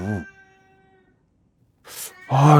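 A cat meows loudly, recorded and played back to a dog. The first meow is short and sustained, followed by a pause. Two more harsh meows come close together near the end.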